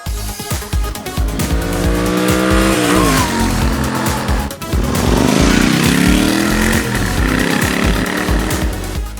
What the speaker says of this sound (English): this motorcycle sounds sweet. The thump is there in the lower end, and of course it's got the twin cylinder rumble